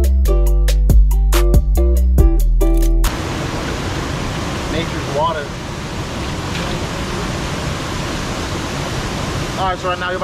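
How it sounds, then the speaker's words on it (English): A waterfall in Hawaii: rushing water roars steadily as a broad, loud wash after a short burst of music, with faint voices briefly audible beneath it. "you might enjoy the waterfall"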